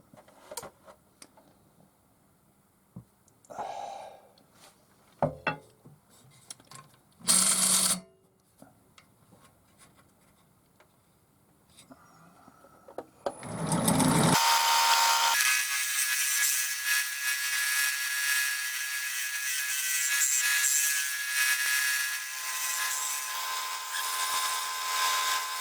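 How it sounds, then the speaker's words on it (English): A wood lathe spins as a tool scrapes the inside of a turned wooden goblet, a steady loud whirring and rasping that starts partway through after scattered handling clicks and taps, then runs continuously to the end. "Let's give it a little bit of a scrape in there, see if we can clean up."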